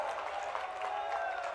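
A crowd claps steadily and continuously at an outdoor public event for the inauguration of a bridge over the Sindh river in Sevda, Datia district, with the chief minister present, while voices mix faintly into the applause.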